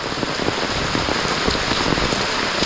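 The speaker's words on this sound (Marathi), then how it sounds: "घराकडे पावसाने दुपारनंतर थैमान माजवलं आहे भरपूर पाऊस" Heavy rain pours down at a village house, a dense, steady hiss of drops drumming on surfaces, loud and unbroken with no voices.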